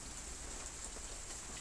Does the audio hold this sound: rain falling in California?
yes